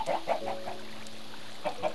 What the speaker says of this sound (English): just a little chicken farm